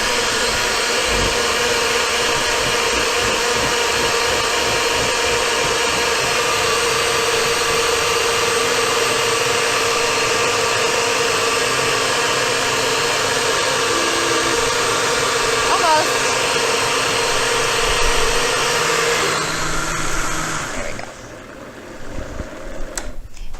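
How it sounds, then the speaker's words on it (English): A blender whirs steadily through a green smoothie, loud and continuous for about twenty seconds before cutting off abruptly near the end. "We can go ahead and blend."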